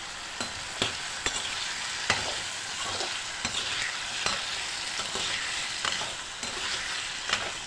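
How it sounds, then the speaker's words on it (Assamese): Salted potatoes frying in a pan for a paneer sabji give a continuous close sizzle, punctuated every second or so by soft clicks of a spatula stirring them. "আলুখিনি ৰঙাকৈ অলপ ভাজি ল'লোঁ"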